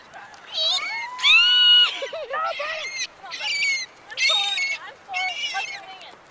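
A seagull stuck inside a box gives a series of loud, close, squealing calls in about six bursts, some long and wavering, with brief pauses between.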